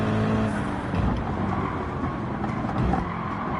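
A Nissan GT-R's engine roars steadily in Gran Turismo 7 during a daily race at Watkins Glen, holding a loud, continuous drone with slight swells in pitch.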